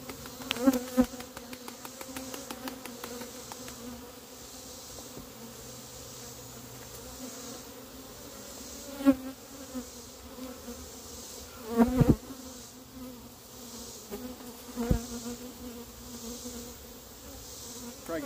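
Many honeybees buzz steadily and close, a dense continuous hum with occasional sharper bumps and knocks.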